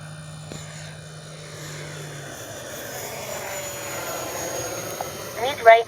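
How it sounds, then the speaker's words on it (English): FMS 64mm F/A-18 Hornet RC electric ducted-fan jet at three-quarter throttle, a steady whining drone heard from a distance as it flies over, swelling slightly at the end. "About 3/4 throttle right there."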